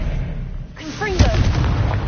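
A Confringo blast spell cast in a Harry Potter video game: a brief voice is followed by a sudden, punchy burst with a short booming tail, close and loud over low background rumble.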